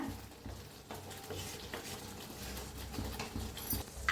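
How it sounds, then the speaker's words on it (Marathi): Masala spices roasting in oil in a pan for egg curry, a soft close sizzle with repeated stirring and scraping strokes, faint and uneven, with no voices. "मसाला असा छान भाजून घेऊया आपण."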